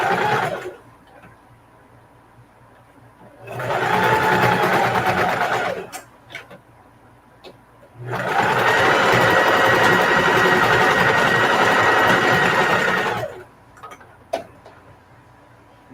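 A sewing machine stitches a patchwork duffle bag in two loud, close bursts of rapid whirring needle action, separated by quiet pauses with small clicks and taps.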